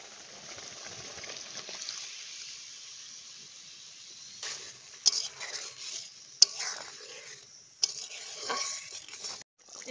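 Cornflour and water slurry poured into a sizzling egg chilli pan: a soft, steady sizzle with several sharp utensil clinks and scraping stirs near the end.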